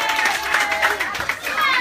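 Children and an audience applauding at a charity donation event in a neighborhood, a dense, fairly loud wash of clapping and crowd voices throughout.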